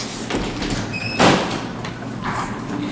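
A modernized Westinghouse traction elevator door slides at the hotel lobby, a brief loud rumbling sweep against busy background noise.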